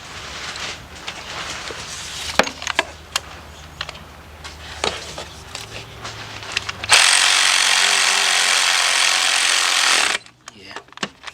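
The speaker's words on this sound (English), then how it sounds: "All right, 2 10mm bolts. Let's get those tightened up." Two 10mm bolts on a Kia or Hyundai engine being tightened during a timing chain replacement, with sharp ratchet clicks and metallic taps up close, then a loud steady burst of a power tool that cuts off abruptly.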